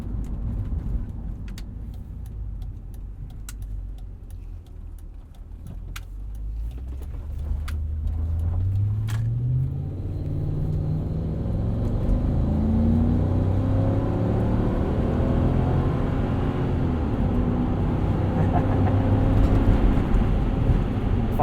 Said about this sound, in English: liter V8 sounds awesome